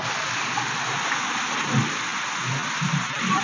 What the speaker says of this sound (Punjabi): ਇੱਧਰ ਦੇਖੋ ਮੀਂਹ ਆ ਰਿਹਾ